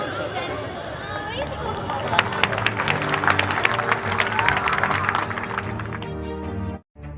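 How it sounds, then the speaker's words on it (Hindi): Loud applause from a stadium crowd at a Republic Day flag-hoisting ceremony honoring an agriculture department tableau, steady clapping mixed with crowd chatter and brief voices, cutting off abruptly near the end. "जोरदार तालियों से कृषि विभाग के झांकी की प्रस्तुति की गई है।"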